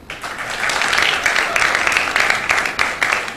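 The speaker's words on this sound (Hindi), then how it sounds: "अब आप बजाएं तालियां" A TV morning-show studio audience claps and applauds steadily for a few seconds, fairly loud and continuous, with some voices mixed in.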